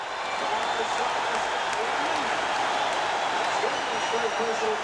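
A packed arena crowd roaring after a made basket and foul in a 1984 NBA playoff game between the Celtics and Knicks, a loud sustained roar that carries on under voices talking over it.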